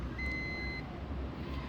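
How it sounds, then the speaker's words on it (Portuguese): A Fluke 1625 earth ground tester gives a short warning beep with no probe connected, a thin high electronic tone lasting under a second over low background room noise. "você ouve um bip, porque não existe nenhum probe conectado ao equipamento"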